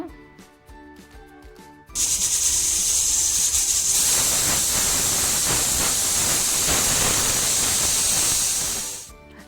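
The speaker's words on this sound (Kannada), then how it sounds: "ಕುಕ್ಕರ್ ಲಿಡ್ಡನ್ನು ಕ್ಲೋಸ್ ಮಾಡಿಕೊಂಡು ಒಂದು 10 ವಿಷಿಲ್ ಬರೆಸ್ಕೊಂಡ್ರೆ ಲೆಗ್ ಪೀಸ್ ಎಲ್ಲ ಚೆನ್ನಾಗಿ ಬೆಂದಿರುತ್ತೆ" A pressure cooker cooking leg pieces for soup lets out a loud, sustained steam whistle, a steady hissing blast that begins abruptly after a few seconds of quieter kitchen sounds, holds for about seven seconds and then tapers off.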